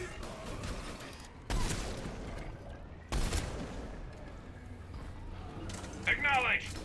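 The Typhoon gun in Mass Effect fires in two loud, sharp bursts a second or so apart, set against a steady game backdrop while voices talk over it.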